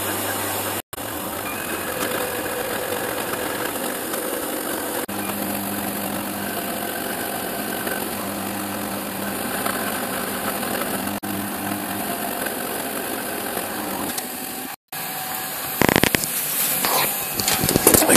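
A small CNC machine takes a slow, shallow finishing cut on a part for DIY injection moulding, giving a steady droning motor whine with faint tonal bands that runs almost unbroken for eighteen seconds.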